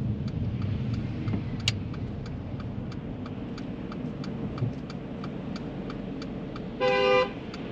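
A car horn gives a short, clear honk near the end, over a steady hum of engine and road noise from inside a moving vehicle.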